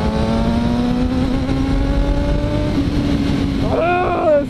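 A souped-up Kawasaki 636 sport motorcycle engine heard while riding, droning loudly and steadily at a high pitch that rises slightly, then revs up sharply near the end, with rushing wind noise underneath.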